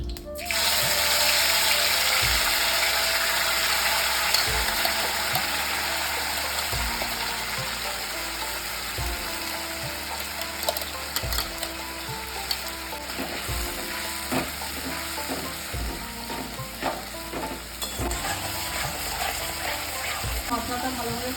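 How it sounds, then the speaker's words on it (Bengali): Spice paste with bay leaves and whole cumin fries in a pan with a steady, bright sizzle, while regular scraping stirs tap the pan every second or two. "মশলাটা ভালোভাবে কষানো হচ্ছে"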